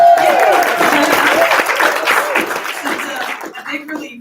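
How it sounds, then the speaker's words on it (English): A luncheon audience in a banquet room breaks into warm applause, dense clapping that swells and then thins out over a few seconds, with a voice speaking over it near the end. "Can we have a little applause?"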